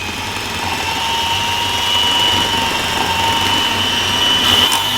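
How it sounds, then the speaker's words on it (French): An electric hand mixer at low speed whips chicory cream in a home kitchen, giving a steady, close, even whir throughout with no talk. "avec le batteur, c'est parti à petite vitesse, on va tout bien mélanger."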